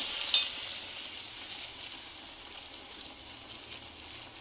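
Chana dal vadas deep-frying in hot oil, a steady soft hiss and bubbling sizzle with a few faint clicks, close and moderately quiet.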